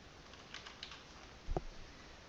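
Quiet mouse clicks at a computer while working in Flight Schedule Pro scheduling software, a few faint soft taps followed by one sharper, slightly louder click, with no talking.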